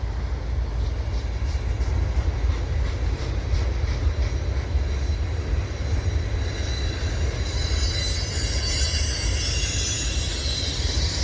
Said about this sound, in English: That Canadian Pacific auto rack squealing around the bend.